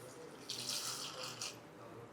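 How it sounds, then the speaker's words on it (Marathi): Fresh water pours steadily onto unhulled pigeon pea lentils in a pot for a soup, a close, splashing rush that swells for about a second and then tapers off, with no voices. "आता यामध्ये आपल्याला पुन्हा फ्रेश पाणी घालायचं आहे."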